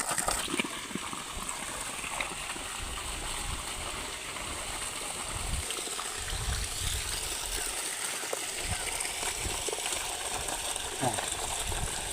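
Water from a village pond bed in the Sundarbans runs off steadily, a close gushing and trickling flow with scattered splashes throughout.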